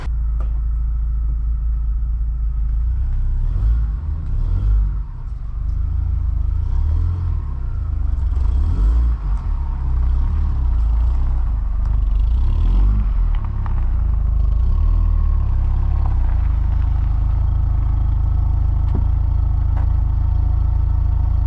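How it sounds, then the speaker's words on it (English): A Volkswagen Corrado VR6 engine idling nearby after a long warm-up run, a loud steady low rumble with slight wavering throughout and no voices. "So the Corrado's been running for about 30 minutes now"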